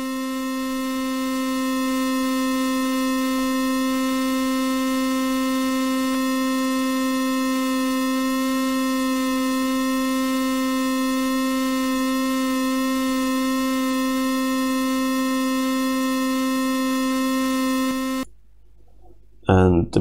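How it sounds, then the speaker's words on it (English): Steady sine wave tone generated by VCV Rack modules for oscilloscope music, a loud constant pitched hum with harmonics running unbroken for about eighteen seconds before cutting off abruptly. "or if we take like a sine wave,"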